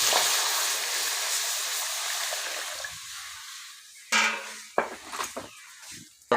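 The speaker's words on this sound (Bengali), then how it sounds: "কাঁকরোলগুলো ভাপে দেওয়ার জন্য জল দিয়ে দিচ্ছি কড়াইয়ের মধ্যে" Water poured into a wok to steam pointed gourds, a steady broadband hiss and splash running for about four seconds, followed by a few sharp clinks and knocks of pan and utensils.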